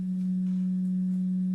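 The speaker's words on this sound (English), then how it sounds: "I'm going to generate a single sound or a single frequency" A single steady pure tone from a sound generator in a science classroom, holding one pitch evenly and continuously at moderate loudness with no talk over it.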